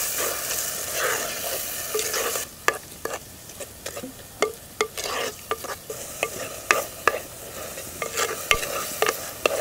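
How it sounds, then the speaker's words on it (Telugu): Onion paste fries in oil with cumin in a pan for a country chicken rasam, giving a steady close sizzle broken by sharp clatters of stirring that grow more frequent in the second half, with no talk. "ఈ ఉల్లి ముద్దని 2-3 నిమిషాలు బాగా వేయించుకోవాలండి."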